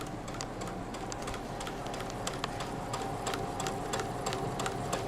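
A sewing machine runs at foot-switch-controlled speed during freehand sewing, a steady close mechanical whir with rapid faint ticking of the needle throughout, no voices.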